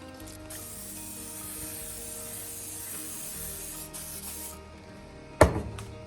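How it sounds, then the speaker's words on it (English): Cooking spray hissing steadily onto a pale blue Wilton baking pan for several seconds, close and alone, cut off by a sharp knock near the end. "Anyway, get your pan all greased."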